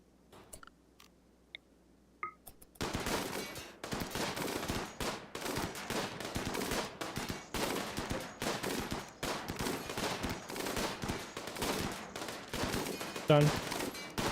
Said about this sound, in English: we're gonna go firing squad this building open